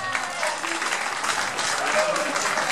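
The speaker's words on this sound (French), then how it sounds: "On peut applaudir très fort, madame." Audience applause at a French hypnosis show, a dense, steady wash of clapping filling the whole stretch at close range without a break.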